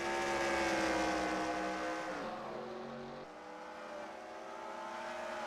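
Simulated Chevrolet Camaro stock car engine in a racing game, Coca-Cola vanilla colors, testing at the Charlotte Roval, a steady loud harmonic drone that shifts pitch downward as it changes gear, continuous with no talk.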